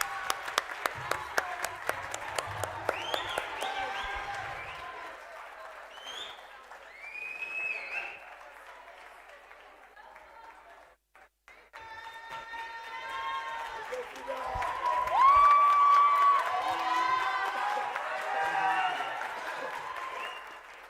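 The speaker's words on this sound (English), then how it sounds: "Can we have another loud round of applause for the debating members?" Audience applause and cheering at a tertiary debating competition, with scattered loud claps early, then mixed crowd noise, shouts and whistle-like cheers rising in a lively swell.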